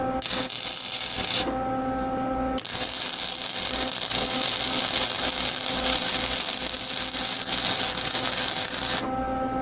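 Gasless flux core wire welder welding on a '57 gasser, close crackling and sizzling arc in two long bursts separated by a short pause, with a steady electrical hum underneath.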